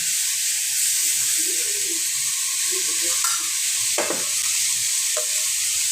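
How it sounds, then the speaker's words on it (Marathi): Moth beans and potatoes being sautéed in a pan give off a steady loud hiss of frying, with a few brief scraping stirs near the end. "मटकी टाकू मटकी बटाटा परतून घेऊया आपण"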